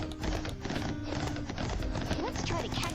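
Horse hooves clip-clop in the Barbie Horse Adventures video game, a steady galloping patter with an occasional whinny, running continuously beneath game music and a person talking.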